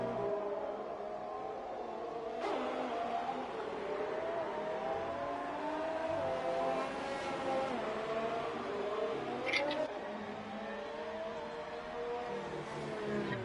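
An F1 car on a hot lap at the Hungary Grand Prix in a racing video game, its engine a faint, sustained whine that rises and falls through gear changes, with a couple of sharp clicks.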